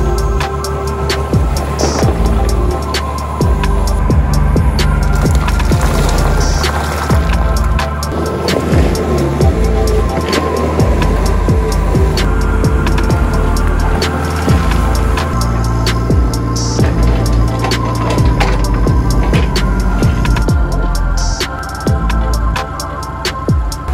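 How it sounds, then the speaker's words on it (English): A skid steer's diesel engine drones steadily up close for the whole stretch while it moves a dirt pile and digs a trench toward a shop, with clanks and scraping over the continuous loud rumble. "I'm gonna grab the skid steer and move all of this dirt and dig myself a trench all the way to the shop"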